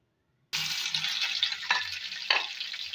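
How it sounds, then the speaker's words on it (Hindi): Ginger and garlic frying in a pan for a chicken achar gosht, a loud steady sizzle bursting in after half a second of silence, with a couple of brief stirring scrapes. "और साथ ही अदरक लहसुन भी डाल देंगे और इसको अच्छी तरह से भून लेंगे"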